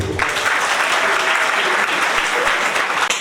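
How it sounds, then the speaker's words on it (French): Applause from a gathering at a town hall, a dense steady patter of many hands clapping alone for about three seconds, fairly loud and close. "On applaudit pour lui"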